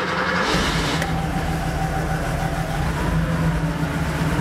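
Porsche 3.2 Carrera flat-six engine cranking, catching and then settling into a steady, slightly rough running drone up close, with no talk over it.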